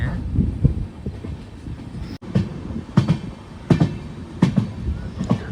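A weekly superfast express train from Kacheguda to Mangaluru Central running beside a lake in Kerala, heard from on board: rhythmic clicks and thumps of the wheels over rail joints under a low rumble, at moderate volume.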